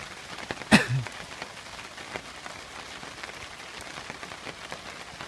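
Steady rain patters on surfaces all around a woodland camp while chicken cooks outdoors, with one sharp knock near the start, and no one speaking.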